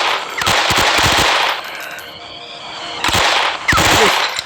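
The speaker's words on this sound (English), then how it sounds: "Give me the gun. I'm killing Momo" Rapid bursts of machine-gun fire in the Mother Bird horror video game, loud and close, two long volleys separated by a quieter gap with a faint hum between them.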